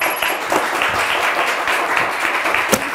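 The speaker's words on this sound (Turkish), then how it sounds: "Bence daha kuvvetli bir alkış hak ettiniz." Studio audience applause on a Turkish word quiz show, a steady burst of many hands clapping at moderate distance, sustained through the moment with a faint voice underneath.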